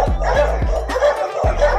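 Dogs at a kennel give a rapid series of loud, close barks and yips, about six sharp bursts in under two seconds, with a short pause partway through.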